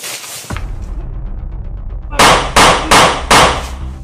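Four loud gunshots fire in quick succession near the end, sharp close bangs spaced under a second apart, after a quieter stretch with a thud and low rumbling.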